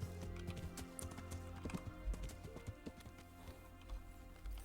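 Horse hooves clip-clop steadily in Kingdom Come: Deliverance, a medieval game, as the rider nears a house behind the gallows, with a faint whinny; quiet hoofbeats over low background music.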